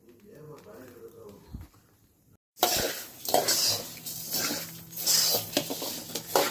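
Coriander seeds dry-roasting in a pan over medium heat for sambar powder, heard as scraping and stirring clatter with light rattling that starts abruptly midway and continues loudly, after a quieter opening with faint talk.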